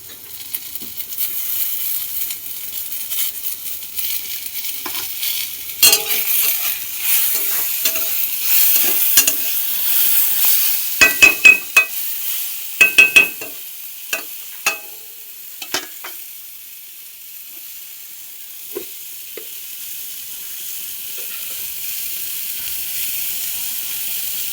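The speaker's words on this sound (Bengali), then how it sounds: "তো এবার টমেটোগুলো দিয়ে দিচ্ছে।" Chicken frying in a pan as tomatoes go in, with a steady sizzle and hiss, bursts of stirring and scraping clatter in the middle, then easing back to a constant sizzle.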